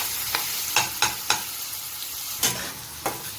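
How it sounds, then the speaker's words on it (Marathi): Ridge gourd thecha, a crushed green chutney, being stir-fried in hot oil, a soft steady sizzle punctuated by about six distinct spatula scrapes at uneven intervals, close and without talk. "आता आपण हा दोडक्याचा ठेचा जो आहे तेलात छान असा आपण परतून घेऊया"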